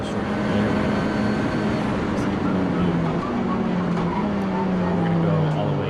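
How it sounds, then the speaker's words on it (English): Honda Civic Type R race car lapping the Circuit of the Americas at a time attack event, its engine droning loudly and steadily, then falling in pitch as it passes and pulls away. "We're just going to listen to this Civic Type R."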